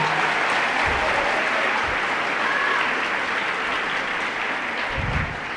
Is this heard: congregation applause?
yes